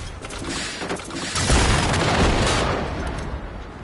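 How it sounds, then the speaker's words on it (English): Rockets fired in the video game Generation Zero boom out as a loud, sustained roar with a heavy blast swelling midway, and no voices are heard over it. "I'm going to use some rockets"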